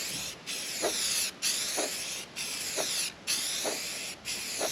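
A spray gun hisses in steady repeated bursts while painting car panels over surface rust repair, each burst lasting about a second with brief breaks between passes, loud and close.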